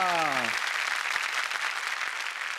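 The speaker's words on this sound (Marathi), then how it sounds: "जोरदार टाळ्या" Studio audience applause on a Marathi comedy show, loud sustained clapping from a crowd, with a voice briefly sounding over the start.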